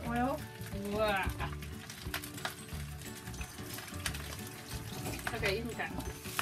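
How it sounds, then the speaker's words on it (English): Rice frying in oil in a pan crackles in a moderate, continuous sizzle with occasional stirring scrapes, while someone talks over it throughout. "And then I'll stir it around and try to evenly coat it with the oil."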